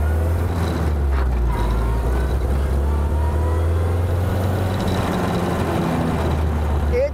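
A pre-war hot rod with a 3-speed gearbox runs on a track, its engine a loud, steady low drone throughout, close and continuous with a rough, throbbing edge.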